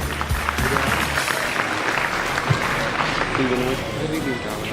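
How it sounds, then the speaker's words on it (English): Audience applause at a school felicitation and prize distribution ceremony, a dense steady patter of clapping that runs throughout, with some voices and a faint tone mixed in. "Huge round of applause for the appreciable work of these students"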